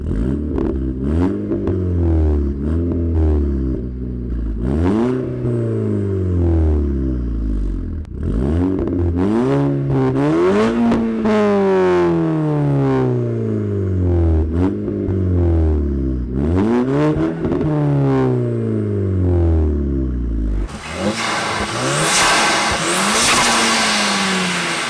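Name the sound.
car engine and exhaust revving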